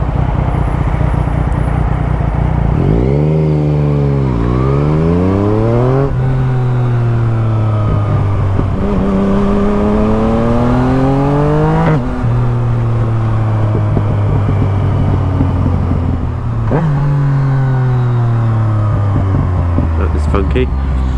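A gen 2 Yamaha MT-09 motorcycle engine blips up and drops back through several quick rev matches while riding, its pitch sweeping up and down in repeated close, loud surges over steady road and wind noise.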